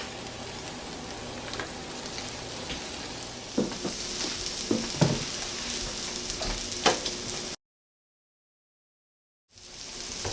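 Salmon patties and crab cakes fry in a pan with a steady close sizzle and a few louder crackling pops, broken by a brief silent gap before the frying returns.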